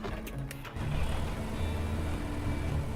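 A tractor in the Farmer's Dynasty video game rumbles along with a steady engine drone that swells after a brief clatter at the start, continuous and fairly close.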